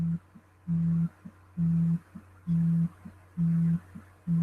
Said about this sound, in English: Oh, the buzzing of the phone. Well, I'm not going to just let it ring.